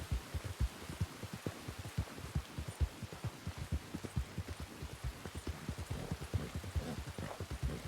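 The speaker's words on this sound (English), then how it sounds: "I'd like to get out of this fucking rain" Rain in the Red Dead Redemption 2 video game, a steady patter of drops with dense low thumping impacts spread evenly throughout, moderately loud and continuous with no talking.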